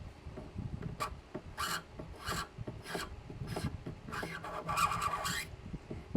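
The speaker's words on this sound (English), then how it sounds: "scrape all this off" Old finish is scraped off a piece of wooden furniture in about eight short, rasping strokes, each a crisp burst with brief pauses between. Close and quiet, with no talk.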